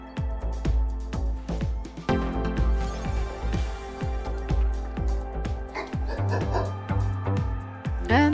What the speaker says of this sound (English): That's one of my dogs.